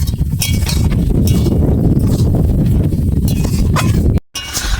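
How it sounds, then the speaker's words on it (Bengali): Mango pickle with sugar stirred in a pan, a steady close clatter and scrape of a utensil against the pan with small clinks, running continuously before a brief break near the end. "এবার ভালো করে নেড়ে চেড়ে আমার আচারটা বানাতে হবে।"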